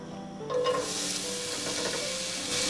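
Onion sizzling steadily as it fries in melted ghee, a dense crackling hiss that swells slightly after the first half second while being stirred, with no voices.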